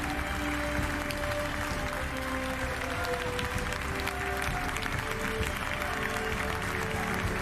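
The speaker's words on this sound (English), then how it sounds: "What a glorious chapter in the career of one of the game's finest footballers. Standing ovation, please." Applause fills the hall at the 2023 Ballon d'Or ceremony as the audience rises in a standing ovation, a steady wash of clapping and crowd noise held at a moderate level for several seconds.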